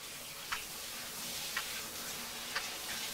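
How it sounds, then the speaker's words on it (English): Noisy clocks tick in the horror game The Sand Man, with three evenly spaced soft ticks over a quiet, hissy background and no talk. "At least the clocks here aren't frozen. But they are noisy, damn."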